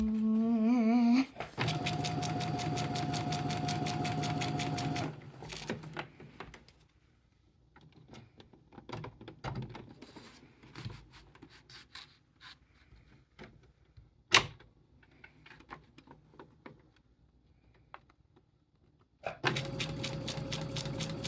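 A home sewing machine stitches practice zigzags in short bursts, a steady whirring run at the start, then quieter pauses with scattered clicks and a sharp knock, before the motor whirs again near the end.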